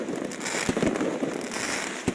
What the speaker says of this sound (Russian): Я уже последний салютик взрываю.